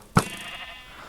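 A single short goat bleat from the Minecraft video game, close and sharp, followed by quiet.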